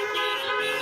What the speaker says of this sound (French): on klaxonne